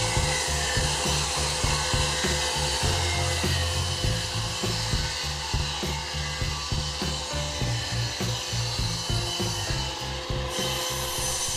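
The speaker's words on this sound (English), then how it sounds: "The first thing to be done is to cut the boards to size." A saw rips through reclaimed pine boards from an old stage riser, cut to size in a steady, loud run of rhythmic strokes that carries without a break for the whole stretch.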